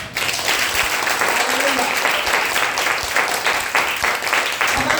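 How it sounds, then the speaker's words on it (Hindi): A church congregation at a Hindi Sunday service claps for God, loud dense clapping from many people filling the space throughout, with voices mixed in beneath. "जोरदार परमेश्वर के लिए ताली बजाएंगे एक बार।"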